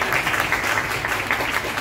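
Applause from the audience at a television show press launch, a dense, continuous patter of many hands clapping at moderate distance.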